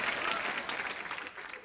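Studio audience on a Hindi comedy talk show, The Kapil Sharma Show, breaking into steady applause mixed with laughter, a dense continuous clatter of clapping that holds at fairly even loudness throughout.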